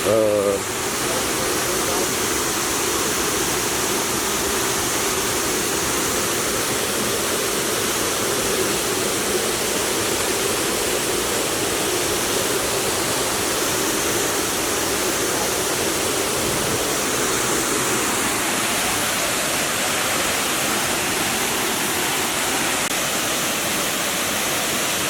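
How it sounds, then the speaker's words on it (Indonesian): Kima Atas waterfall near Manado, a steady, loud broadband roar of falling water filling the whole stretch without a break, with a voice speaking briefly near the start. "kayaknya itulah air terjun itu."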